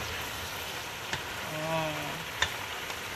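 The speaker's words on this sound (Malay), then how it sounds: "bahan-bahan harus kita tumis sehingga dia matang" Ingredients for satay peanut sauce sizzle in a hot pan with a steady frying crackle, a couple of sharp utensil clicks, and a short tonal whine partway through.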